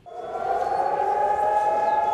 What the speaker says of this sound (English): Sirens sounded across Israel Monday